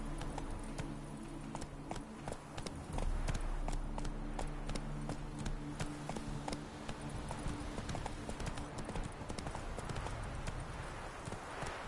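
Horse hooves clip-clop at a steady gallop in a PS4 video game, a rapid rhythmic pounding that runs throughout, fairly close and loud, with a soft game ambience underneath.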